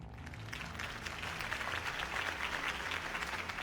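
Crowd applause in the video game Batman The Telltale Series after a Harvey Dent campaign speech, a faint, continuous wash of many hands clapping that holds steady throughout.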